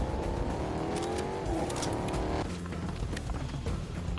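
A car driven in Fortnite Battle Royale, with a steady engine drone and a pitch that rises as it accelerates, then shifts and settles into a continuous loud hum throughout.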